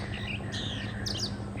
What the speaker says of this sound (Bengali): এখানে খুব সুন্দর পাখির কিচিরমিচির একটা সাউন্ড